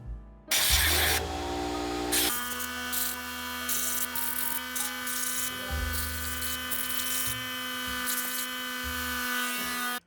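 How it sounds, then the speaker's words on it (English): Compressed air blasting dust out of a PS4 power supply unit in a garage, a loud hissing rush with a whirring tonal spin, like the fan being driven by the airflow, sustained close up with short pauses. "So let's start by blowing out the PSU."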